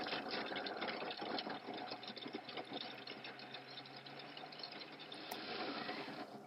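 A food processor chops polymer clay into small particles, giving a continuous whirring motor hum mixed with fast clattering and rattling from the pieces tumbling inside, with no talking.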